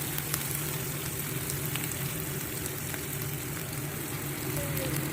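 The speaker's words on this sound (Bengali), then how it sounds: "পেঁয়াজ কুচিগুলো সাথে ক্যাপসিকাম, একটু কাঁচা লঙ্কা দিয়ে দিলাম, একটু নেড়ে নিতে হবে" Chopped onion, capsicum and green chilli frying in a pan for a Bengali-style pasta, a steady dense sizzle with faint crackles and occasional stirring, fairly close and continuous with no talk.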